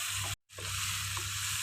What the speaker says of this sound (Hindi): थोड़ी देर के लिए इसे मज़ीद भून लेंगे इसका टेस्ट बढ़ाने के लिए।